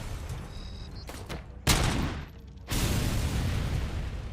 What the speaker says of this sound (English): Gosh, everything's blowing up